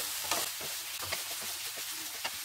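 Broccoli and mushrooms stir-frying in a hot pan, a steady close sizzle with scattered scraping stirs and small pops throughout.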